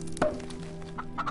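Leghorn chickens in the Farm Together farming game on PS4 give a few short clucks and a sharp thunk over a steady game music hum, moderately close.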